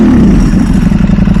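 A motorcycle with a dry clutch and a titanium Akrapovic exhaust runs close and loud, its deep engine rumble rising slightly in a steady, throaty drone.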